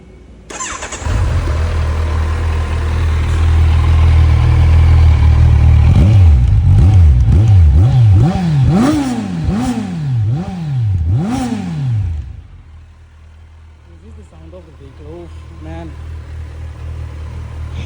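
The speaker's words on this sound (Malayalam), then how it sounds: "ഇതിൻ്റെ സൗണ്ട് ജസ്റ്റ് നിങ്ങൾക്കൊന്ന് കേൾപ്പിച്ചു തരാം വണ്ടിയുടെ." A Kawasaki Ninja 1100 with a liquid-cooled 1100 cc inline-four fires up close by and settles into a loud idle. It then revs hard in a quick run of rising and falling blips before dropping back to a quieter idle.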